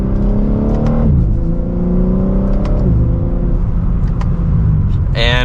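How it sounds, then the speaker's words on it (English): A 2024 BMW M3 Competition xDrive pulls from second gear, its engine note climbing in loud harmonic steps through quick upshifts, the revs dipping and rising again, heard from inside the car. "we'll give it a small acceleration here from second gear"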